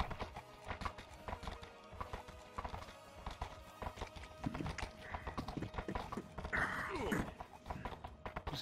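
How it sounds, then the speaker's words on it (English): Horse hooves clip-clop steadily in an audio drama, a close, even rhythm of hoofbeats running through the whole stretch, with a brief whinny-like rise near the end. "Good horse."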